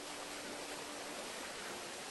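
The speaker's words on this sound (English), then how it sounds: "That's a nice waterfall." Steady broadband rushing of a waterfall in the point-and-click adventure game Monkey Island 2, a constant even roar at moderate level that runs alone without any voices throughout.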